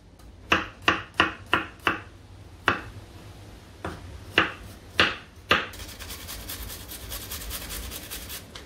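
A knife chops through food on a board while a Congolese dish of caterpillars, mushrooms, dried and salted fish is prepared: about ten crisp, close cuts, a quick run of five, then slower spaced strokes, ending in a steady hiss.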